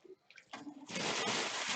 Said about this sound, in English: I could actually just pour a kettle of water over it